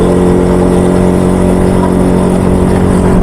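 Motorbike engine droning loud and steady under heavy throttle while climbing a steep uphill road on a Ladakh ride, a constant strained hum with no pauses.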